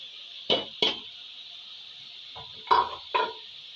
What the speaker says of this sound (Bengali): এবার কচুরলতিটা দিয়ে এই মশলার সাথে ভালো করে কষায় নেব